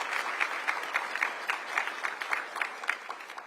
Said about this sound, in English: So round of applause for Pam and the Research Bureau.